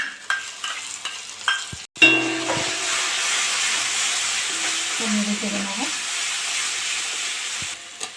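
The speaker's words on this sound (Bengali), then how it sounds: "একটু নেড়ে চেড়ে নিয়েছি আমি এবার জল দিয়ে দেবো যে এই মশলাটা কষে নেবো" Ground coriander, cumin, salt and tomato paste sizzle in hot oil as they are stirred for a potato and fish curry. A steady, close hiss follows a few light taps, with occasional scraping of the spoon.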